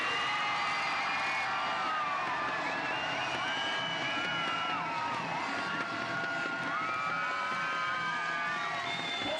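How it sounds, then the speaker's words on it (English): A large Ostrava crowd roars and cheers at a beach volleyball match, a dense, sustained wall of voices with whoops and shouts rising throughout, loud and continuous for several seconds. "followed by one hell of a noise from this Ostrava crowd"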